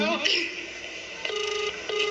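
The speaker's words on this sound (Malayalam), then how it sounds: "വീണ്ടും വിളിക്കണ" Telephone ringback tones on a phone call, a couple of steady electronic rings with a short gap between them, close and clear, with a voice heard briefly at the start.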